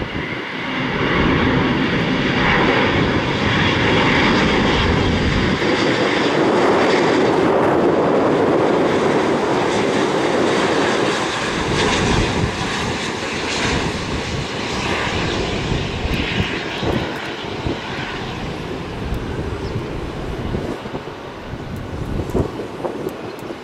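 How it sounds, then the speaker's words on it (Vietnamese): Singapore Airlines Airbus A350-900 landing at Tan Son Nhat airport, a loud, close, sustained jet engine roar that swells and then slowly fades as the aircraft passes and rolls out, with no talk. "Bây giờ thì chiếc Airbus A350-900 này hạ cánh đã."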